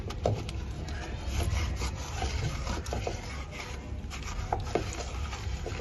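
A wooden madani churner works sugar into a sattu sherbet, giving a steady close scraping, rubbing rattle with repeated knocks of wood against the pot, continuous throughout with no talk.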